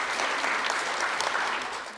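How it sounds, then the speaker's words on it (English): Audience applause for young speech competition finalists aged 7 to 8 at a finals event, a steady dense clapping that holds loud and even throughout with no talking. "So let's once again put a round of applause for our 13 to 15 finalists."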